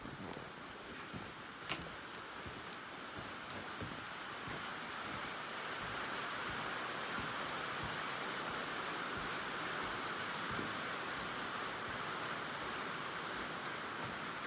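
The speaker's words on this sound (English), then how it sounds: "More rain." Heavy rain falls steadily during a huge storm, a dense, even hiss of drops on surfaces lasting throughout with one sharp drip or knock near the start, fairly faint and with no voices.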